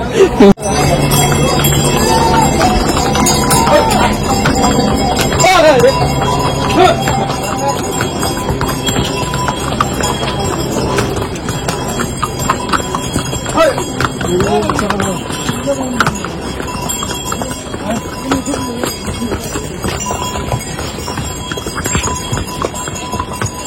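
Horse hooves clip-clop steadily along a steep mountain path on the Kedarnath trek, a continuous rhythmic plodding with people talking over it throughout.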